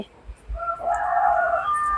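A rooster crows once in a single long, drawn-out call at moderate distance, preceded by faint low thumps.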